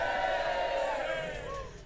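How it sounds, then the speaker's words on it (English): A short burst of crowd cheering from a sound effect played during a charity livestream, a loud, sustained roar of many voices that holds and then slightly fades. "Excuse me, where did that cheer come from then?"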